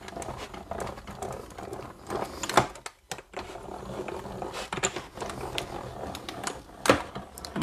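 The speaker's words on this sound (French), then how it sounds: "Vous entendez la machine tourner." A small motorized paper die-cutting machine runs nearby, clattering and ticking in an irregular mechanical patter, fairly quiet, with occasional louder clicks and bumps.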